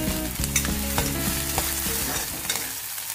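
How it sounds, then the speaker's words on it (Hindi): Vegetables frying in hot oil with cumin seeds for veg rice in a home kitchen, a steady loud sizzle broken by repeated scrapes and clinks of a spoon stirring the pan. "और तेल गरम हो रहा है, जीरा डाल दूंगी और पूरी सब्जी साथ डाल दूंगी। सब्जी को ऐसे पका लूंगी।"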